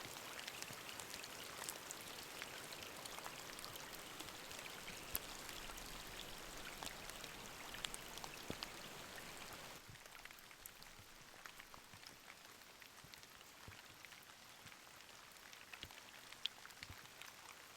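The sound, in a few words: heavy rain falling on a tent while winter camping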